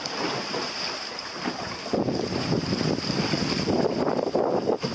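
Wind of about 10 knots picks up while sailing a boat through the Everglades. Steady, close wind buffets the microphone with gusty swells, mixed with water noise from the hull.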